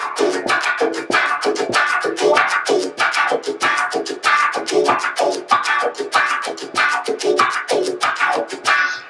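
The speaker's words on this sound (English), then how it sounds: "Or I could do it on all 4 beats." Rhythmic electric guitar chords played through a wah pedal rocked on all four beats, a steady pulsing filtered sweep with each strum, close and loud, no voices.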